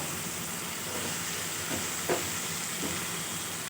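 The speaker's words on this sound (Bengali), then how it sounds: "দিয়ে ভালো করে মশলাটা কষিয়ে নেব।" Ginger, onion, garlic and tomato paste masala frying in a pan for a spicy puti fish curry, giving a steady broadband hiss and sizzle with a few faint stirring scrapes.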